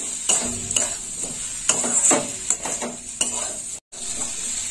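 A pan of ivy gourd and potato pieces sizzles steadily up close, with a spatula scraping and knocking against the pan in an uneven rhythm and one brief dropout near the end, no one talking.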